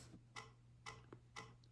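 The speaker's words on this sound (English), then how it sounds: "Let me get a little metronome going here." A quiet, steady metronome ticking three times at an even pace, isolated against faint background hum.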